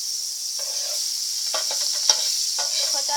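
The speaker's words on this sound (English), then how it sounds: "This is almost gone, but like I said, it will sizzle" Butter sizzling in a hot pan while making a grilled cheese sandwich, a steady soft hiss with a few faint scraping stirs, heard alone without talk.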